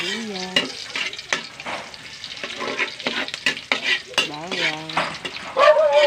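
Onions sizzle and get stirred in a hot pan while sweet and sour fish balls are being cooked, a steady frying hiss with scraping stirs, and a dog barks briefly now and then in the background.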